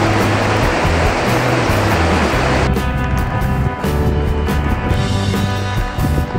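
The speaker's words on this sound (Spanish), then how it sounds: "vamos a pasar el arroyo de la Fuenfría, que por lo que suena parece que lleva bien de agua por el deshielo" The Fuenfría mountain stream, swollen with snowmelt, rushes in a loud, continuous roar close by, with a steady droning hum underneath.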